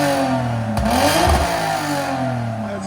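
A 2015-2025 Lexus RC 350 engine idles, then is revved sharply once toward the rev limiter, its raspy exhaust note climbing and dropping back to a steady idle, close and loud, with no voices.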